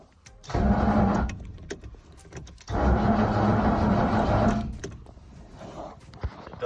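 A Ford Capri 2.8i cranking on its starter motor without firing, with two sustained bursts of churning, whirring turnover separated by a short pause, close and fairly loud, and no talk over it.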